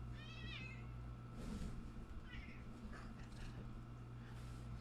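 A house cat meows twice, a short rising call then a softer second one, faint and close over a constant low hum, with a voice speaking quietly in between.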